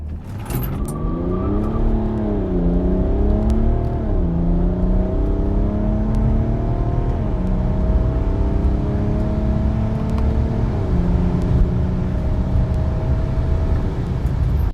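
A BMW accelerates hard on a race track, its engine note rising steadily through the gears with several brief dips at upshifts, heard loud and close from inside the car for the whole stretch, without any voices.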